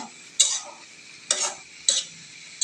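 Chopped tomato and vegetables stirred in a pan for a vegetable fry, with three distinct scraping strokes spaced about a second apart, close and fairly loud, no talking.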